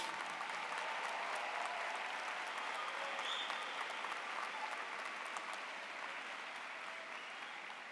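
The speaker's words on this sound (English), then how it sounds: "A big round of applause for all these students" Sustained, dense applause fills a university commencement hall for graduating health sciences students, a steady distant roar of many hands that fades slightly near the end.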